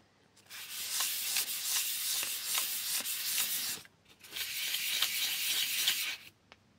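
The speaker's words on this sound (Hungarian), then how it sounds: "Ehhez szükségem lesz csiszoló vásznakra" Hand sanding with abrasive sanding cloth on a CPU during a repair, two long bursts of steady, close scratchy rubbing strokes separated by a brief pause.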